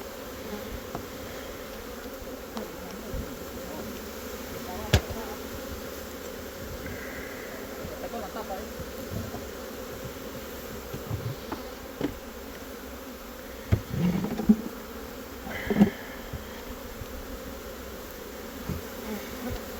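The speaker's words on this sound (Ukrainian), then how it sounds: "злосні бджоли, злосні" Honey bees buzz steadily throughout at an open hive, a dense droning hum close by, with occasional brief knocks and scrapes rising above it.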